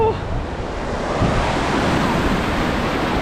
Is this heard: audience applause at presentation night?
no